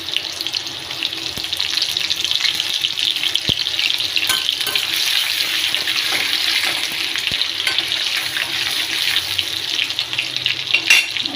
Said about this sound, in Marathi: आता जिरे लसूण छान असं फ्राय झाले।